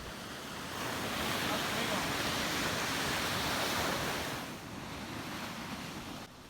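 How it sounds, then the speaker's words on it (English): Heavy surf breakers crash on a sandbar at a striped bass and shad fishing beach, a loud, broad roar that swells for several seconds and then eases, with wind buffeting the microphone. "Notice the heavy breakers creating thick white water on the sandbar."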